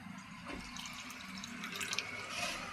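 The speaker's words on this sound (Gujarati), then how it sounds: "એમાં આપણે પાણી નાખી દઈશું." Water is poured into a kadai, a soft continuous splashing and trickling that swells slightly toward the end, heard alone at a low, close level.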